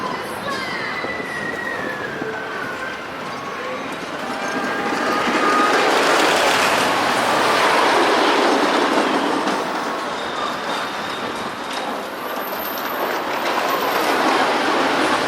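The Cyclone wooden roller coaster at Luna Park, Coney Island, rumbles loudly along its track, with rolling clatter and metallic squeals that swell to a roaring peak midway before easing slightly.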